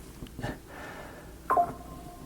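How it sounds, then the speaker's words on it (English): A short two-tone phone notification chime sounds once against a quiet room, brief and moderately clear. "I just got a notification."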